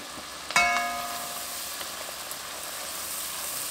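Flour is stirred into a pot that already holds garlic, for creamed spinach: a sharp clatter and then a steady sizzle and hiss that fade slowly, close by with no talk.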